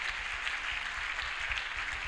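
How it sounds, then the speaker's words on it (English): Continuous congregation applause in a church service, many hands clapping at a fairly even, moderate level throughout, with no distinct voices. "put your hands together and give God an hand clap of thank you"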